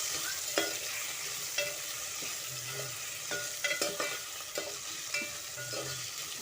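Palak spinach sautéed in a pan, a steady gentle sizzle with rhythmic stirring scrapes and small clacks of a spoon every second or so, close by with no speech.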